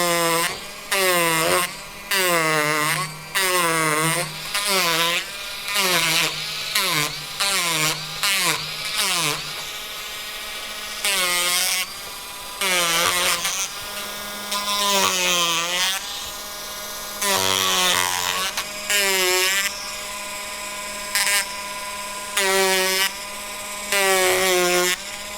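A power tool grinds and carves into a wooden log for a rustic piece, cutting in loud repeated bursts with short pauses between them, running steadily for the full stretch with no talk.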